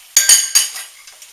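A utensil clinks against a cooking pan as cheese is stirred into a simmering alfredo sauce for a garlic shrimp bake, giving three or four sharp close taps in quick succession.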